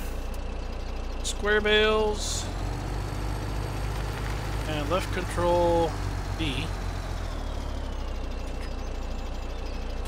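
Idling engine of a truck from the Flegel pack in a farming game, a low steady rumble heard under continuous talking.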